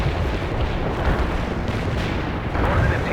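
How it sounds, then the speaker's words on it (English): An artillery barrage striking its target in the real-time strategy game World in Conflict: a dense, continuous rumble of overlapping explosions and booms that holds loud throughout, with no pause. "A barrage hit the target."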